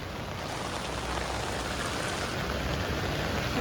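Rain on a school day, a steady, faint, even hiss of falling drops with no voices.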